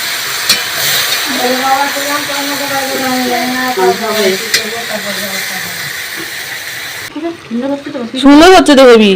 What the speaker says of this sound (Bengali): মাংস কষানো হচ্ছে এখন।